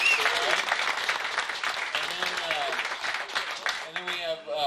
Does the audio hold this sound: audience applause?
yes